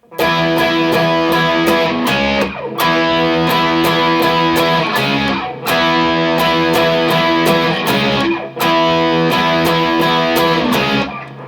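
A distorted electric guitar plays a repeating riff of steady picked notes, loud and continuous, with two brief pauses between phrases.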